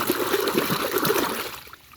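Water splashes and trickles steadily in a bucket as toy animals are washed, a close, continuous wet sloshing that fades slightly near the end.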